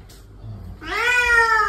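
A Bengal cat lets out one clear, drawn-out meow at close range after a short, faint sound, with no talking over it.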